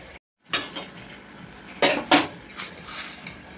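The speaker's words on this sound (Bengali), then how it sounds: "এইভাবে আমি খুন্তিটা ভালো করে এরকম জেঁকে জেঁকে দিলে ভালো করে ঘন্ট হয়ে যাবে" A spatula pressing and stirring red spinach ghonto in a pan, making a few sharp metallic scrapes and knocks against the pan with quiet gaps between them.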